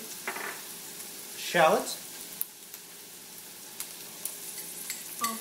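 Habanero shrimp with jalapeno is stirred and fried in a pan, with a soft steady sizzle and one brief stirring scrape, while a voice speaks quietly.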